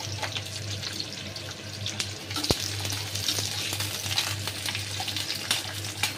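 Onion frying over high heat in a pan for chicken chilli, a steady close hiss of sizzling oil with faint stirring scrapes and one sharp clink partway through, no voices.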